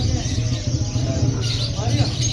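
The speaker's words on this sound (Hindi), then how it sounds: "ये कबूतर है।" Low, throaty pigeon cooing repeats close by at a pet market in Multan, mixed with some murmured voices and background noise.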